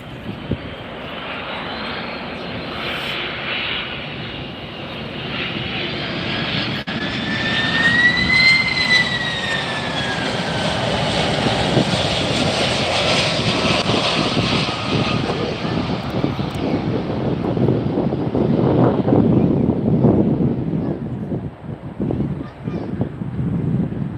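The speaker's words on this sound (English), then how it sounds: "Definitely hear that thrust reverses all the way down here" A Boeing 767-300 lands close by with thrust reversers deployed, roaring loudly and steadily, the engine noise swelling into a sustained rushing blast that holds through to the end.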